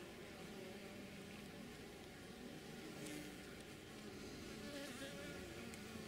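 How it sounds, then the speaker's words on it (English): Dense, steady buzzing of many honey bees in a strong colony in a cathedral hive close by, a continuous droning hum with no talk over it. "you can see that there are bees all the way along there"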